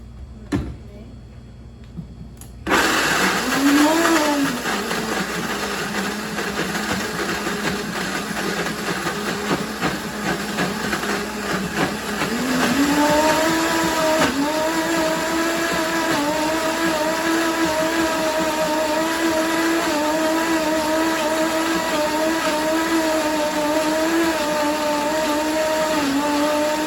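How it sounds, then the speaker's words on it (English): Blender whirring as it blends sprouted chickpeas, sesame and sunflower seeds, lemon juice, red bell pepper and celery, starting after a short pause and running loud and continuous, its pitch rising and settling as the mix smooths out. "just put it all in the blender and make it creamy"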